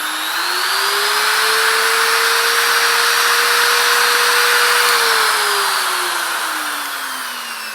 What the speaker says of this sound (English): We're gonna switch gear, and I use a Dremel with a diamond bit.